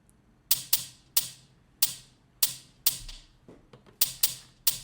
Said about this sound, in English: So for the drums, I have my initial hi-hat pattern